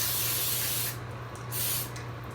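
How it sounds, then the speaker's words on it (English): Cooking spray hissing from a can onto a pan for peanut brittle, a close, loud, steady spray with a couple of short pauses between bursts. "or you can spray."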